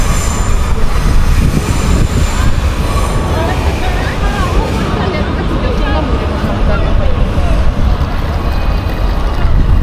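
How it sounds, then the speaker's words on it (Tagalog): Train at Cologne Central Train Station: a loud, continuous rail rumble with wheel squeal and clatter, heard close up amid station bustle and voices. "So this is the Cologne Central Train Station."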